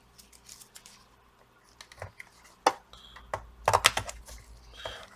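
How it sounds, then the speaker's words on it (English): Keyboard being pried and unclipped from a Lenovo G580 laptop: scattered sharp plastic clicks and snaps with soft scraping and tapping, irregular and close, louder bursts near the end, no talking. "Now we have to take out the keyboard."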